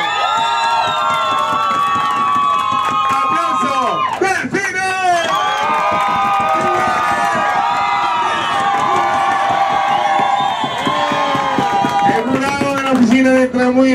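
A lively crowd cheers and shouts nonstop at a pirate-themed show with a DJ in Cartagena, with whoops and excited voices in a dense, loud wall of sound.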